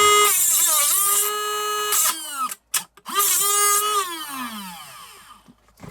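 Powered cutting tool slicing through model railway track at an angle, a loud close whine that rises and falls in pitch, briefly cutting out and restarting before winding down.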